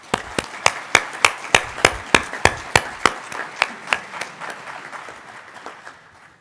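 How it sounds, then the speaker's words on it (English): Loud, rhythmic clapping at a graduation ceremony for the graduates, sharp regular claps nearby over softer crowd applause that gradually dies down. "Let's have one more big round of applause for our graduates."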